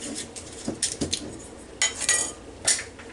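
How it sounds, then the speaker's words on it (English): A new jar of pickles is opened in a home kitchen: a few sharp glassy clinks and rattles of the lid and jar, in short bursts separated by quiet handling. "So we'll open this other jar here."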